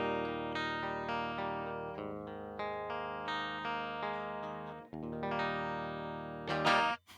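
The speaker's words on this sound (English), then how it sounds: "Jazzmaster style guitar with Duncan Antiquity pickups." Jazzmaster-style electric guitar fitted with Duncan Antiquity pickups, run through a Brainworx Diezel VH4 amp simulation, plays sustained ringing chords with a bright, driven tone, a short break near the end followed by a louder strum.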